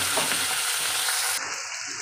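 Potato and onion frying in a pan, a loud, dense close sizzle filling the short stretch, easing slightly toward the end, with no voices.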